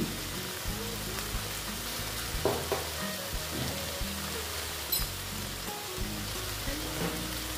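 Ghee sizzles steadily in a hot pan while mochar ghonto, a banana-flower curry, cooks. The frying hiss is continuous and close, with a few small pops and stirring knocks, and no one speaks.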